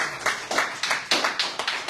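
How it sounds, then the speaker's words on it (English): Crowd applause for a women's javelin gold medalist, a dense, steady patter of many hands clapping in uneven bursts, fairly close and continuous throughout. "So give her a big round of applause"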